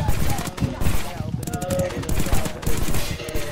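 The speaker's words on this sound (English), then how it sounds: "some shooting happening" Rapid gunfire rattles in a Rec Room game, dense bursts of shots continuing throughout with a player's voice talking over them.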